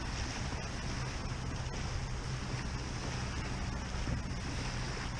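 Wind blowing steadily at a saltwater shoreline, a continuous broad rush with waves washing in the background and a few gusty thumps against the microphone.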